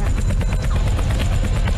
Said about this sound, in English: so the helicopter's almost ready.